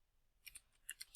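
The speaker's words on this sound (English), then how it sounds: "Let's just go ahead and type in viewer" Several light, crisp clicks of keys on a computer keyboard, spaced irregularly in short bursts, quiet and close with no voices.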